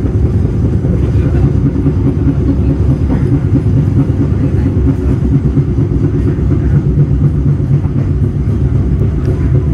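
Airlangga passenger train arriving at Cikarang station, a loud continuous rumble of wheels and carriages rolling close by, with faint rhythmic rail clatter and no talk.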